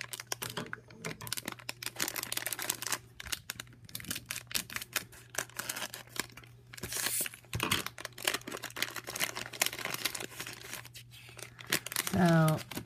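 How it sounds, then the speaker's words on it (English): Plastic wrapping crinkles and tears while an Imaginext mystery figure bag is opened, a steady rustle through the whole clip with brief rattles toward the end and a person talking over it. "So let's go ahead and start unwrapping these."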